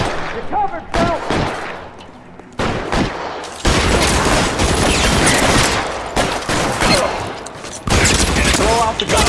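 Heavy gunfire from a shootout in the video game L.A. Noire: dense, loud volleys of shots crackle almost continuously, with a brief lull before the barrage resumes and keeps going to the end.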